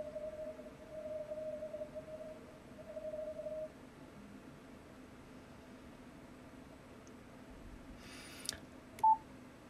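A low-pitched Morse code CW signal on a contest-band radio receiver, isolated with a manual notch filter and a 300 Hz roofing filter. A faint, steady keyed tone sits over hiss for about four seconds, then fades, leaving noise and a brief burst near the end.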